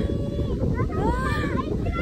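Gusty wind buffets the microphone in a constant low roar on a mountain hiking trail at Mt. Batulao, Nasugbu, Batangas, with a voice speaking over it.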